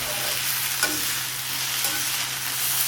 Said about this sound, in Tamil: சேர்த்து நல்லா பெரட்டி விட்டுருங்க.